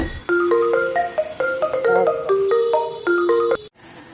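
A mobile phone plays a melodic electronic ringtone, a bright tune of quick stepped notes repeating for several seconds at close range before stopping, with no talking over it.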